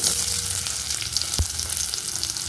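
Onion sizzling in hot oil with panch phoron for a bitter vegetable curry, a steady dense frying hiss with one sharp crackle partway through, close and without talk.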